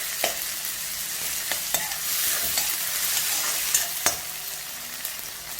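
Tomatoes with onion and chili softening in a pan, a soft steady sizzle with a few sharp clicks of a spoon scraping and stirring against the pan, close and unaccompanied by talk.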